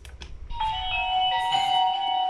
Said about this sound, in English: I should hear the original house chimes, and I should hear all my Amazon devices, dots and shows and everything whenever I press this doorbell